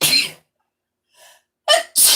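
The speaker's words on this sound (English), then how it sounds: "Hold on, I guess sneeze." A single close, sharp allergy sneeze preceded by a short intake of breath, with a brief faint sound between.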